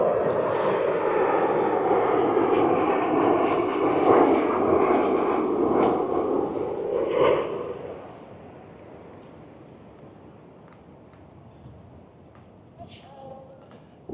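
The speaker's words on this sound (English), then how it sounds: "There's an Alaska Airlines coming in." An Alaska Airlines airliner flies in overhead above an outdoor shopping plaza, a broad rumbling roar that holds loud for several seconds then fades away, with people talking nearby.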